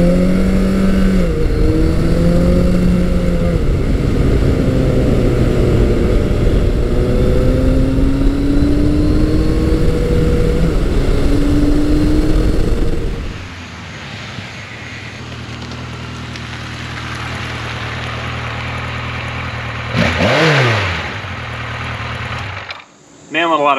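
Yamaha FJ1200 motorcycle engine on the road, loud and near, its pitch rising and falling through revs and gear changes, then settling to a lower steady rumble with wind noise before one more brief surge.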